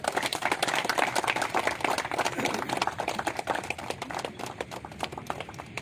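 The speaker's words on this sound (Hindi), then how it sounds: "आप सब लोग उनके लिए जोरदार तालियां दीजिए" Crowd at a birth anniversary celebration for General Zorawar Singh breaks into loud, sustained applause, dense clapping filling the whole stretch at steady volume.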